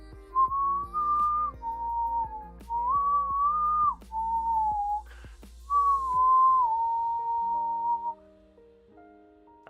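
A person whistles a clear melodic tune in several short phrases, with brief pauses between them, over faint background tones.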